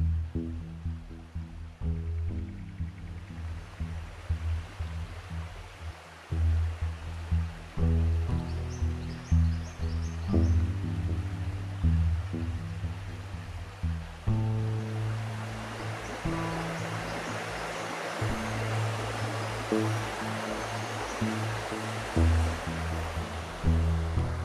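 The Bellinger River flowing through its coastal floodplain below the Dorrigo Plateau gives a steady, rushing wash of water, with faint birdsong and some low sustained tones mixed in throughout.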